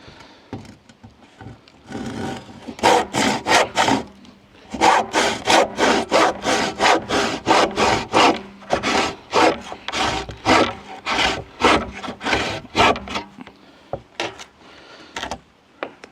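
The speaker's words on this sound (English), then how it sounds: "this is doing woodwork in the shed" Wood is sawn and rasped by hand in a shed, rapid rhythmic back-and-forth strokes in loud close bursts, pausing briefly between runs.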